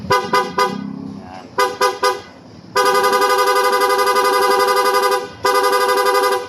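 A Sniper 155 motorcycle's dual horn sounds in three quick short toots, then another trio, followed by two long sustained blasts, loud and close.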